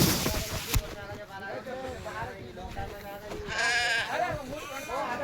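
Goats kept for sale bleat in a close group, several wavering cries overlapping one after another, while people talk underneath.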